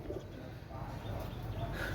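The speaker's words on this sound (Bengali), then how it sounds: "অসাধারণ একজোড়া কবুতর, গোল্ডেন কবুতর" A pair of golden pigeons cooing softly, low rounded coos repeating over a steady murmur of background noise, close but quiet, with no one speaking.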